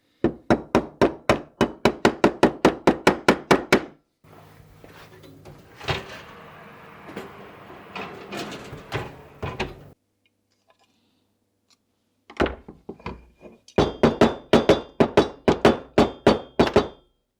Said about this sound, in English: And then tap it with the rubber hammer.